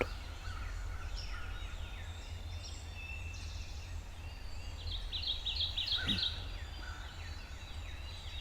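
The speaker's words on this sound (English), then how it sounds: "He just gobbled." A wild turkey gobbles from some distance in the woods, one rapid rattling call standing out over a steady outdoor background with faint birdsong.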